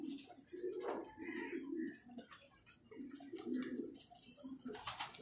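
Flying pigeons coo in low, soft, repeated rolling calls, fairly quiet and close, with faint bird chirps and a little background noise around them.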